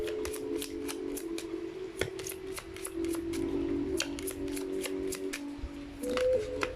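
Tarot reading cards are pulled and handled in a row of quick, crisp card snaps and flicks over a low steady hum, close and fairly quiet, without speech.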